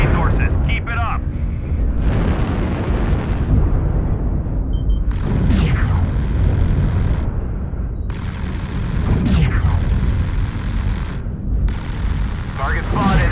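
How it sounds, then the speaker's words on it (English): Artillery strike explosions in a video game thunder repeatedly as several heavy booms with rumbling tails, under a steady electronic game voice announcing targets. "Artillery strike activated."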